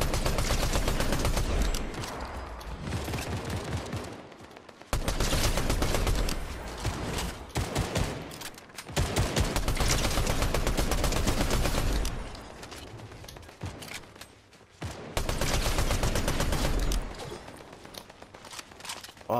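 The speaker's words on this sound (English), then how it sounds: "Where are these shots coming from?" Rapid Fortnite gunfire fills most of the stretch, with dense bursts and volleys arriving in three long waves separated by brief lulls, loud and close throughout.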